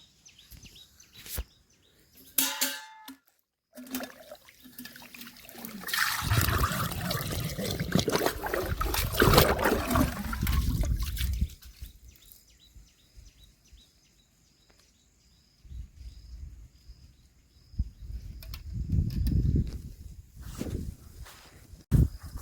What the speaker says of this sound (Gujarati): ડારેથી પાણી બહાર જાય છે